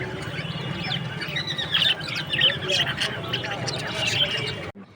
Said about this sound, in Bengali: এখানে ঘুঘু পাখি